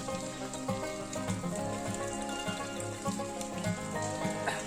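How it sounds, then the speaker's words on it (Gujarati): Steady rain patters on a surface, with a continuous wash of drops and faint background tones mixed in. "ત્યાં વરસાદ ચાલુ થઈ ગયો છે જુઓ તમે"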